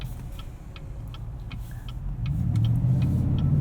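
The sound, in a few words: 2018 Chevrolet Tahoe RST driving through corners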